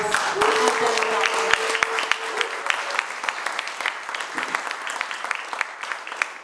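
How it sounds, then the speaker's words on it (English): Audience applause for a community panel, a steady wash of many hands clapping that holds for several seconds, with a faint whistle-like tone and some murmured voices early on. "please just give them a round of applause"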